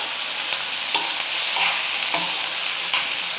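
Onion, tomato, ginger and garlic sauté in a pan for a potato and pea kurma, a steady close sizzle broken by a few soft stirring scrapes, with no voices.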